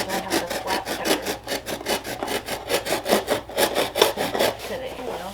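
Repeated rhythmic sawing strokes as a blade cuts the flap off a cardboard box, about a dozen back-and-forth rasps, close and fairly loud, with no talking.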